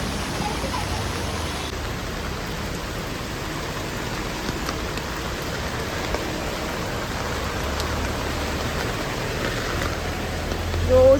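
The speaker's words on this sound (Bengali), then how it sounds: "রোজ দিন এইরকম বৃষ্টি এই সময়" Steady rain falls in Mumbai, a dense, even hiss of drops on surfaces that continues without pause, with a slight swell near the end and no talk.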